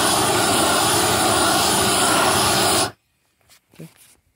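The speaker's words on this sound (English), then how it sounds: "About 10 to 15 seconds with the propane torch." A propane torch roars with a loud, steady broadband rush for about three seconds, then cuts off abruptly, followed by quiet with a few faint knocks and brief handling noises.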